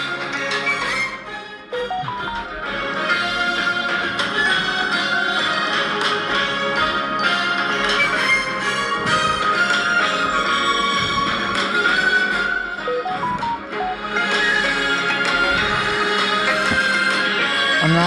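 The 2024 version of the ringtone on a Samsung Galaxy S24 Ultra phone plays as a full, dense melodic tune with layered instruments, steady and loud throughout without pause.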